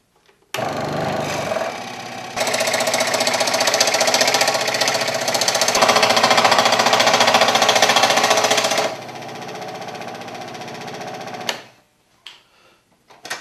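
A power tool cuts the waste out of a wooden template for a Halloween router bowl, a loud close buzzing whine that starts in short bursts, runs steadily for several seconds, then stops, followed by faint handling noises.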